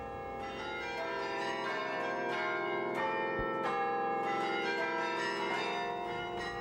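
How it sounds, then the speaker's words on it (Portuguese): A 53-bell carillon in a convent tower rings out in a steady, overlapping peal, the sustained metallic tones layering over one another without pause. "carrilhões são conjuntos de sinos"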